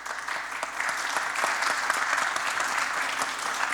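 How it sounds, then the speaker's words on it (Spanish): A crowd applauds a startup founder, steady dense clapping sustained at even loudness for a few seconds. "Así que un aplauso para Nicolás."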